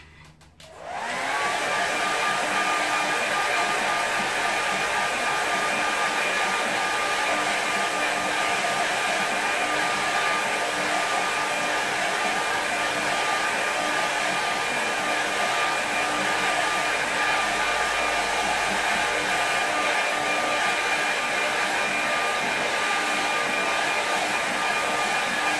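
A hair dryer blows steadily over a watercolour landscape painting for about twenty-five seconds, a loud, constant close-up whoosh with a faint whine and no talk.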